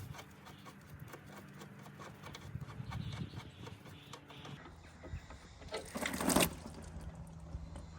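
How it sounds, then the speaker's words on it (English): Hydraulic oil draining from a mini excavator into a pan, a faint, uneven splashing trickle with scraping and handling noises, then a brief louder gush, close by. "So I'm just going to drain the hydraulic oil."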